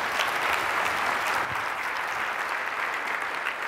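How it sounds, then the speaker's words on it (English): Steady applause from an audience fills the whole stretch, dense and even with no voices standing out. "give Fred another round of applause"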